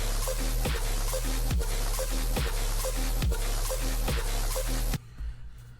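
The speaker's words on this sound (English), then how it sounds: "The synth for the drop sounds like this." A distorted synth riff for an electronic song's drop pulses in a steady rhythmic pattern with heavy low end and gritty buzz, loud and upfront, then cuts off abruptly near the end, leaving a faint tail.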